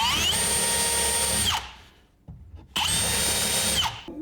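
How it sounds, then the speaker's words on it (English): A power drill bores a hole through a wooden shop-cabinet drawer in two loud, close bursts of high whining motor, separated by a short pause with light handling noise. "I'll just finish drilling this hole through."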